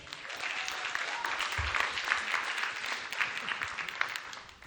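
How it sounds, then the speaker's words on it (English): Crowd applause at a comedy club, the Laugh Factory in Chicago, as a performer is introduced: dense, even clapping filling nearly five seconds before tapering off at the end. "Clap it up for Derek Smith, everybody."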